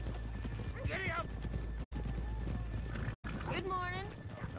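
Horse hooves clip-clopping at a steady walking rhythm on a town street in Red Dead Redemption 2, close and clear, with neighs and snorts rising over it and voices talking throughout.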